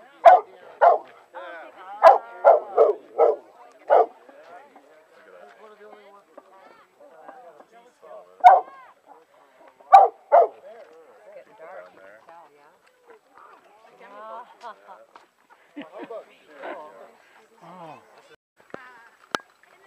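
A dog barks in loud, close bursts, first a quick run of barks, then scattered single barks and a few softer yips, outdoors at Folsom Lake with a person talking in between.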